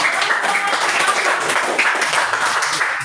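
An audience claps continuously at a group performance event, a dense, even patter of many hands held at steady volume throughout before cutting off at the end.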